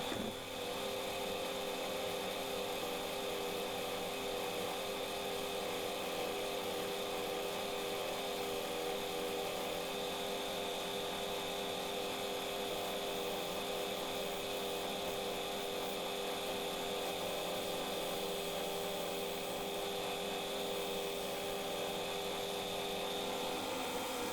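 A skew chisel trues an out-of-balance bog oak bowl spinning on a wood lathe, producing a continuous loud whirring drone with a steady tonal hum and faint cutting hiss, unbroken for the whole stretch, no voices.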